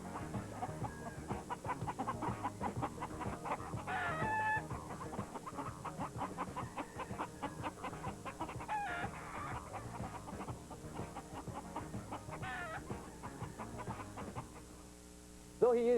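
Chickens cluck and chatter steadily throughout, a busy yard of fowl with layered calls overlapping, and a rooster's crow may rise among them near the start and again at the very end.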